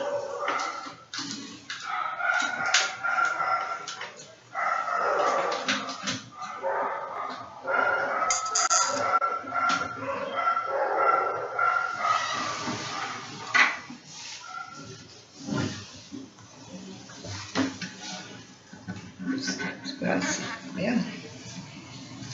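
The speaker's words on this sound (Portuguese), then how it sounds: "Os cachorros aí fora estão danados aí." Dogs bark and yip repeatedly in the distance under a continuous muddle of talking and household noise.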